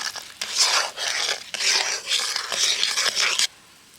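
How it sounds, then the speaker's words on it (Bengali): Sugar syrup mixed with squeezed lime juice is stirred in a pot for mango pickle, giving repeated close scraping and swishing strokes in uneven bursts before falling quiet at the end. "চিনির রসটা একটু নেড়ে দেব"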